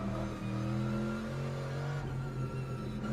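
A GT3 race car engine revs hard on a downshift at Spa in Le Mans Ultimate, a loud continuous mechanical drone with shifting pitch as the revs rise and settle.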